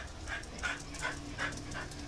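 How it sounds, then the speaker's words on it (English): An excited dog whimpers in a series of short, high, repeated whines, about four evenly spaced cries close by over steady background noise, with no talking. "I don't know, Malayo's getting excited for some reason. Maybe she's a dog or something."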